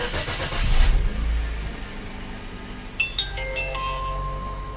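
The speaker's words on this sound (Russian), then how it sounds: "первый запуск после ремонта" A Chevrolet Spark M350 / Ravon R2 with a 1.2 B12D2 petrol engine at 112,000 km cranks and fires after repair, a loud burst settling into a steady low idle, followed by faint warning chimes.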